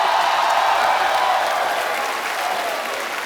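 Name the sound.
studio audience applause on a comedy show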